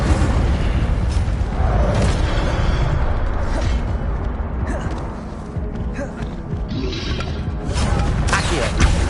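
Incendio fire spell cast repeatedly in a Harry Potter video game: a steady, dense roar of magical fire effects with rumbling booms, creaks and crashing hits running unbroken for the full nine seconds.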